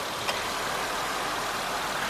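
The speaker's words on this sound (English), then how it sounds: "Engine's running good." The engine of a 2008 Acura TL S idles steadily, a smooth even hum with a faint broadband hiss, close by and without any talk.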